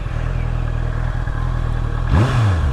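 A 2026 Honda CBR 650R with an inline-four engine and E-clutch, sitting in neutral, cranks with a rapid starter clatter, then fires and catches with a rising, revving bark that settles into a rough idle, loud and close.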